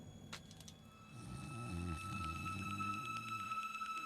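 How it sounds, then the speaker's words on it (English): Snoring from an anime character in a Bleach episode, low rumbling breaths rising after the first second and continuing steadily, set against faint tonal background music. "Is he snoring?"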